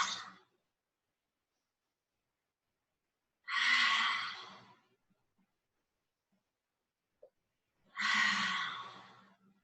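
Three forceful lion's breath exhalations during a yoga class, each a loud, breathy, open-mouthed rush of air lasting about a second, spaced several seconds apart with near silence between.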